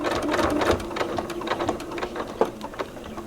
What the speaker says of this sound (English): I am going to sew to the cross point, and then I'm going to sew off